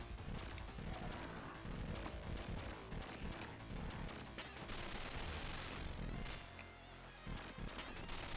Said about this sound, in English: there goes my last bomb